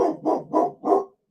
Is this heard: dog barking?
yes